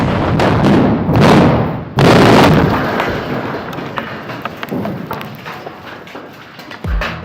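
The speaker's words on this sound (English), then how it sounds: "The explosive charges were reduced to protect the nearby retaining wall from vibrations. Nevertheless, the blasts are impressive." Tunnel blasting with reduced explosive charges at a pumped storage plant construction site, two loud rumbling detonations in quick succession followed by a long decaying roar and debris noise.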